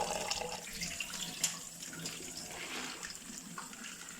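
Tap water runs and splashes steadily while maize corn is rinsed in a basin until the water runs clean, a soft, continuous trickle close by with a few brief sloshes.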